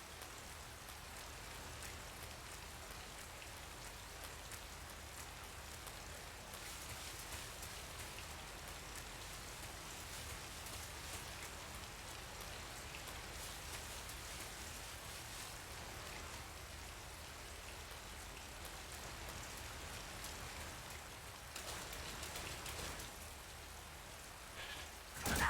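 Steady, close rainfall from the rain effect in the video game Metal Gear Solid 3, running on an emulator, patters evenly throughout with no voices over it.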